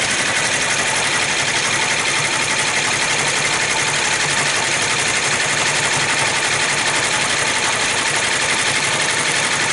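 A computerized embroidery machine stitches an applique design, running at a steady, fast mechanical hum with a rapid needle chatter that continues evenly and closely from start to finish.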